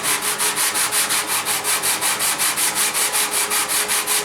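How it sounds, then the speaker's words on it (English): Sandpaper worked back and forth along a guitar neck to set its plane, a steady, loud, evenly paced rasping stroke repeating about five times a second with no talk. "Now, the sandpaper just comes up a little bit."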